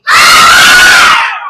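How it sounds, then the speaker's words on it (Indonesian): A group of children shout "hore" together in unison, one loud, sustained cheer lasting about a second before cutting off. "Kalau senang hati teriak hore."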